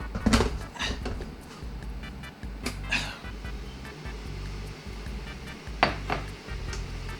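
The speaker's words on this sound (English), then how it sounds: "And so then we boil the jug." An electric jug kettle heats water with the microphone right beside it, giving a loud, steady low rumble and hiss, broken by occasional clinks and knocks.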